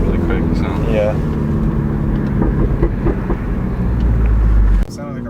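A modified MINI Cooper F56 exhaust gives a loud, steady, rally-car-like drone close by, holding constant for several seconds before cutting off abruptly, with people talking over it.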